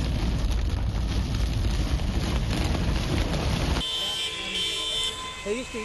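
Heavy unseasonal rain in Pune pours down as a dense, loud roar for about four seconds, then the scene cuts to a quieter outdoor background with faint tones and murmurs.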